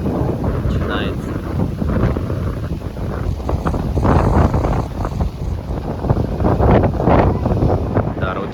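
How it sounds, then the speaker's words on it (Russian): Strong wind gusts carrying dust roar steadily across the microphone on a city street in Abu Dhabi, a loud, continuous rumbling buffet with no clear pauses. "Подул ветер с какой-то пылью."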